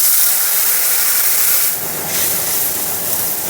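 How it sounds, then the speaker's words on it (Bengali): A spice paste of cumin, coriander and Kashmiri chili powder hits a hot pan for jackfruit seed kofta, giving a loud, close, continuous hiss of sizzling that swells briefly midway. "পেস্টটা যে করেছিলাম এটাকে ঢেলে দিচ্ছি।"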